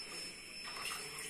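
Ordinary tap water is poured into a bowl with a little milk to mix custard, a soft steady splashing pour that swells slightly toward the end, with no talking.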